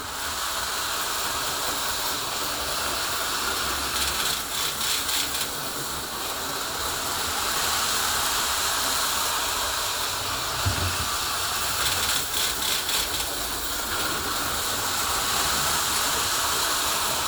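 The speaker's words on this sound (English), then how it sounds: "Train going on." A running toy train gives off a steady, hissing mechanical whir with faint rhythmic clicking, continuous and fairly close, without any talking.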